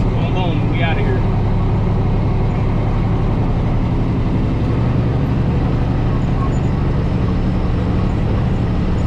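A dump truck engine roars steadily as the driver floats gears without the clutch, with a close, loud drone through the cab and a voice talking over it.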